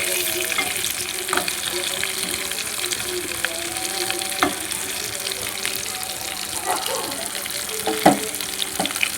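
Fish fry sizzling in a pan as the pieces are slowly stirred and turned, a continuous crackle with occasional scraping clinks and a voice talking quietly over it.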